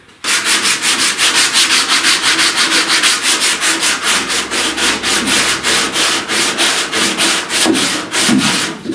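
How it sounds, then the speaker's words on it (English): Hand sanding of body filler on a truck cab corner with a sanding block during deep dent repair, loud rhythmic rasping strokes repeating steadily and close up, with no talking. "See me sanding around this curve like this, that's to follow that curve"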